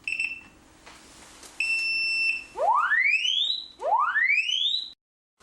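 A residential smoke and fire alarm, set off with its test button, gives a few short high beeps, then two long rising electronic whoops. The sound is loud, close and heard with no speech.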